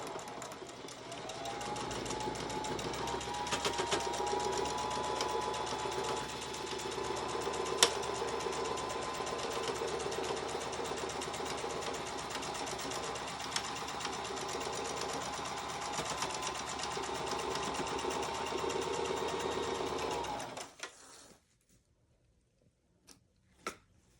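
Sewing machine stitching a tea towel project bag, a steady fast mechanical whir running continuously for about twenty seconds before stopping, followed by a few faint clicks.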